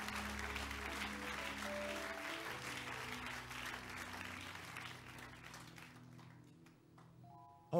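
A church congregation claps during a sermon, with sustained instrumental tones running underneath. The applause is strongest early on, then gradually thins and fades toward the end.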